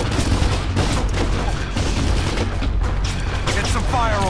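Sustained gunfire in the PC shooter Kane & Lynch: Dead Men, a dense, loud, continuous volley of shots and booms with no pause.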